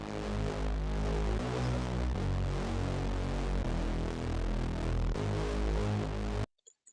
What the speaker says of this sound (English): So I like to use a very distorted bass that mostly uses 8 voices.